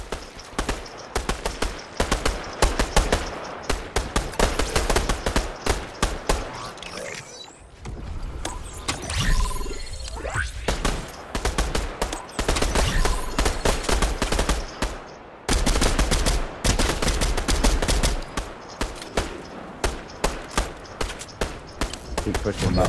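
Rapid bursts of video game gunfire crackle loud and close across most of the stretch, dropping out briefly in the middle before resuming, with voices talking over the shooting.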